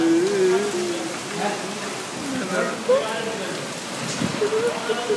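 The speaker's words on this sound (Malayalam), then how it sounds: "അടിപൊളി മഴയാണ്" Heavy rain pours steadily during a cyclone in Chennai, a dense, close hiss of drops drumming on surfaces throughout, with voices talking over the downpour.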